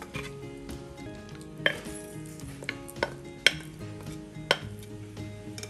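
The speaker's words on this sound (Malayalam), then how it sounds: "ഇനി ഇത് നന്നായിട്ട് ഇളക്കി യോജിപ്പിച്ച് കൊടുക്കാം" Boiled tapioca (kappa) is stirred in a pan with a utensil, producing scattered metallic scrapes and clinks over a low simmering background, with no talking.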